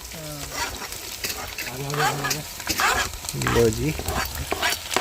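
Onions frying and being stirred in a pan at a campsite while cooking chowmein, a steady sizzle under frequent nearby talk with occasional scraping stirs.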